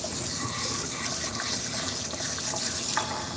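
Running tap water rinsing a pair of hands at a sink during a cat grooming session, a steady close splashing gush with light irregular spatter and no talking.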